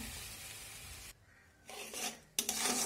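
Tomato paste and slit green chilies frying in oil, heard as a sizzle with utensil scraping and clinks, broken by a brief quiet gap before a louder burst of frying.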